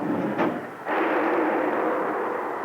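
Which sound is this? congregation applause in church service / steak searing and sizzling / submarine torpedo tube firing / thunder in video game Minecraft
submarine torpedo tube firing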